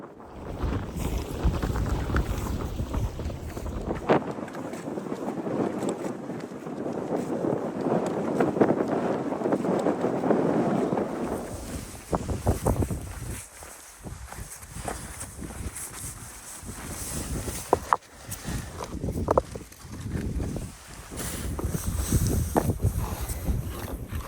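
Strong Arctic wind roars and buffets loudly against the microphone, building to a dense rush in the first half and then gusting unevenly, with no voices.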